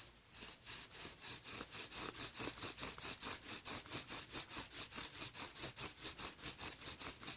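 Wooden bow drill driven back and forth with a cord to make fire, a steady rhythmic rasping and squeaking of spindle against board, close and loud, repeating about four times a second without pause.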